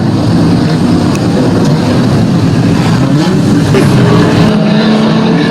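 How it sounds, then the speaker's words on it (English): A street stock race car backs out of the fence after a crash with panel damage during an Australian title B-main at Redline Raceway; a steady, loud engine drone fills the air with a brief rise in revs near the end. "she's backing the car out of the fence"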